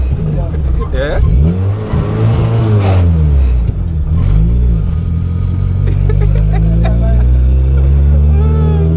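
Honda Civic EK6 engine revving under load while driving, a loud steady drone that rises and falls in pitch through the gears, with people talking inside the car over it.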